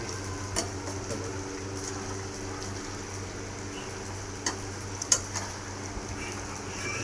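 Chicken deep-fries in oil with a steady low sizzling hum, broken by a few faint scattered clicks and taps of utensils against the pan.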